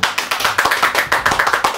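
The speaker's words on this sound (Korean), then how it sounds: "박수!" Brisk, even clapping from a few people welcoming a guest to an interview-show set, a close, regular patter of hand claps at a steady rhythm.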